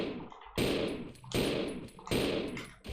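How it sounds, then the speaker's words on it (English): Handgun shots fired at a zombie in Resident Evil 0, three loud heavy blasts spaced evenly about three-quarters of a second apart, each with a rumbling decay. "But I can defeat it with my handgun."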